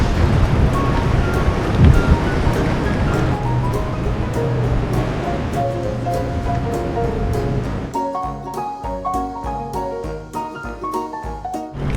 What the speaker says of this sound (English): The surf is pumping today.